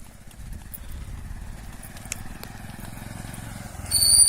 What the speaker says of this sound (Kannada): ಒಂಜಿ ಬೈಕ್ ಬರ್ನ ಅರಡೆ ಕೇಂಡು ತೂಕ